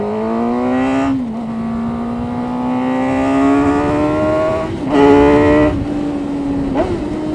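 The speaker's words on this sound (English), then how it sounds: "When the stock exhaust is on, it just sounds like, I don't know. It's a lot quieter, obviously, but what I hear is the swooshing sound from the intake." A car with its stock exhaust revs close by, the engine note climbing in steady pulls with brief dips between shifts or throttle lifts, and a breathy intake swoosh riding over the quieter exhaust.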